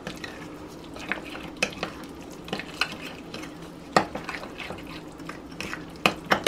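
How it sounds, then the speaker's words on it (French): Spoon stirring a seasoning marinade with oregano for an oven-roasted pork leg, a series of soft scraping and clinking strokes against the bowl at close range, uneven in rhythm, with no talk. "on mélange bien."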